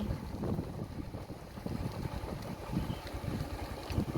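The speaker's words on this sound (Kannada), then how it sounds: "ಬೈಕಲ್ಲಿ ಹೋಗ್ತಾ ಇದ್ದೀವಿ" Steady rumbling wind buffets the microphone with a low engine drone beneath while riding a motorbike along a rural road to a village temple in Karnataka, continuous and fairly loud throughout.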